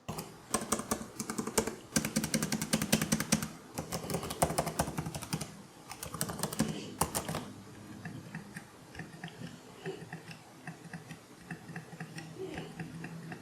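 A laptop keyboard typed on in bursts of rapid, crisp clicking keystrokes, close and fairly quiet, with brief pauses between runs and sparser, softer taps toward the end.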